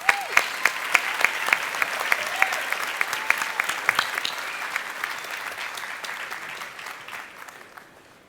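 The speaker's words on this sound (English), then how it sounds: "let's give our very inspirational commencement speaker, Dr. Pelosius, another round of applause, please" A commencement ceremony audience gives a warm round of applause, dense clapping heard from a slight distance that holds steady and then gradually fades away.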